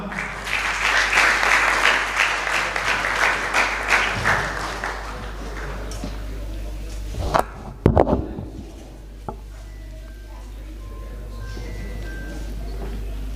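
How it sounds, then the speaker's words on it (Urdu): An audience at an Urdu poetry mushaira breaks into loud, sustained applause for about five seconds. The clapping then thins out and gives way to a quiet hall with a few scattered bumps and knocks. "آپ کی بھرپور تالیوں میں"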